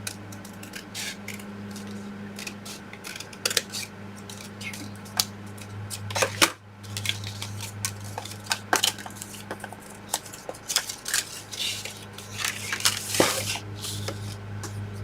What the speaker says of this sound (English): Again, I'm cutting inside the line.